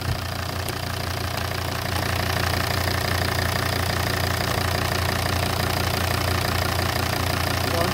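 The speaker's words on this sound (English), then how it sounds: "So I'm going to turn the engine off." Volvo XC90 D5 AWD diesel engine with a stuck swirl flap actuator, idling in a steady close, loud, knocking drone throughout, no voices.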